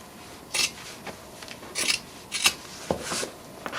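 Scissors snip through fabric up close in several short, crisp cuts separated by brief pauses, quiet and with no voices.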